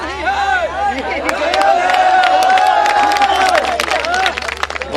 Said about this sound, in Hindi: जोरदार तालियां जागरण परिवार के लिए।